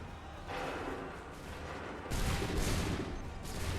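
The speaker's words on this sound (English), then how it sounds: "Open fire." Musket volleys crackle in Assassin's Creed III, a dense, sustained fusillade that grows louder and heavier partway through, with no clear gaps between shots.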